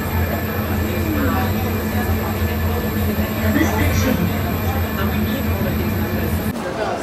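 An airport train in Dubai rumbles steadily with a low hum and rolling wheel noise, the rail sound continuous and fairly loud throughout, dropping slightly near the end as the ride changes.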